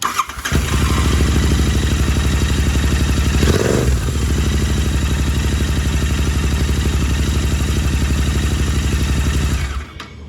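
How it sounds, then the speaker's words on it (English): A fuel-injected motorcycle engine cranks and catches within a second, then idles with a loud, steady, close chugging rumble for several seconds before cutting off abruptly. "Now you need to start the engine."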